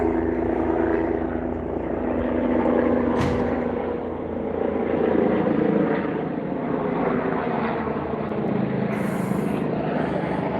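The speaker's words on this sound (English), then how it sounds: "There's the helicopter." A helicopter drones steadily overhead in Columbus, Ohio, its rotor rumble rising and falling slightly over several seconds with no talking.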